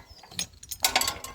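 Ratcheting clicks from a recoil pull starter on an MB1 walk-behind tractor as it is turned, a short burst of close, bright mechanical rattling that grows louder near the end.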